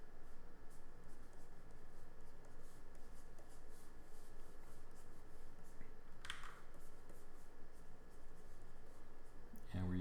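A pencil scratches across paper in a continuous soft rasp while a figure in an action pose is sketched, faint and close, with a brief louder stroke midway and a bump at the end.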